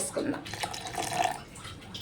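Water splashes and trickles briefly into a blender jar holding pineapple and ice, a short wet pour over steady background noise.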